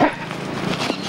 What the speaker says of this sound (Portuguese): Sob o comando, o cão policial Phantom ataca.